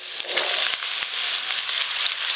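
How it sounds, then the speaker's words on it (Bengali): Chopped bottle gourd hits tempered oil seasoned with five-spice, dried chilli and bay leaf, giving a loud, close, continuous sizzle and frying hiss with a few sharp crackles. "এবার কেটে রাখা লাউগুলো দিয়ে দেব।"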